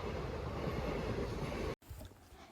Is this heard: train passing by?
yes